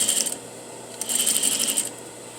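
A sewing machine stitches into the cup of a bodice in two quick bursts of rapid, light mechanical clatter separated by a short pause, close and clear.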